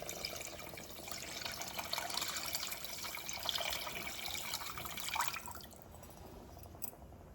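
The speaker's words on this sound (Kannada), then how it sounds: "ಆಮೇಲೆ ಇದಕ್ಕೊಂದು ಸ್ವಲ್ಪ ನೀರನ್ನು ಆ್ಯಡ್ ಮಾಡ್ಕೊಳ್ಳಿ." Water trickles and drips into a cooking pot with a soft continuous splashing that stops near the end, quiet and close, with no talking.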